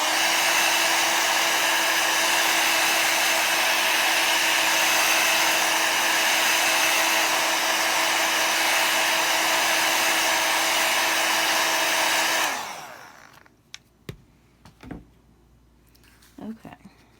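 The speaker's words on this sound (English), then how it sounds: "let me dry it just a touch more." A hair dryer blows steadily and loudly on a handmade birthday card for about twelve seconds, then switches off, leaving quiet paper handling with a few soft taps and rustles.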